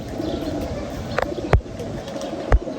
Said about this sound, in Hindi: ये मल्टाई कड़ी वाला बड़ा कबूतर है